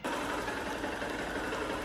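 A motorbike engine runs at a steady idle-like drone, fairly faint and continuous, with a low mechanical hum and no voices over it.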